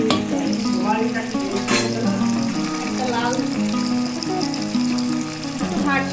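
Paneer sizzles and is stirred in sunflower oil in a pan. The frying is a steady crackle under prominent tonal background sound that sounds like music or voice.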